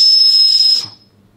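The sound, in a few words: whistle blown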